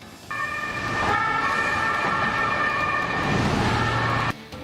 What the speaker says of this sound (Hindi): पुलिस की सायरन बजाती गाड़ियां लगातार लोगों को चेतावनी दे रही है